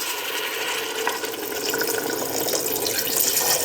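Water pours steadily into a pot of carrot soup vegetables, making a continuous rushing, splashing flow from start to finish.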